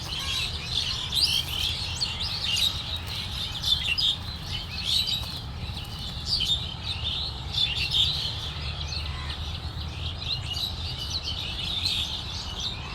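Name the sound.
birds calling in trees in Dhaka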